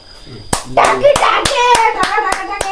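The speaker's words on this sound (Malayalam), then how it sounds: "ക്ലാപ്പ് അടിക്കും" Sharp hand claps in a home, about seven evenly spaced slaps ringing out loud and close, with a voice chattering between and under them.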